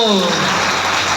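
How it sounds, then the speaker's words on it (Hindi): An audience at a DXN training session claps loudly together in a dense burst of applause, with a voice trailing off at the start. "एक जोरदार ताली होनी चाहिए।"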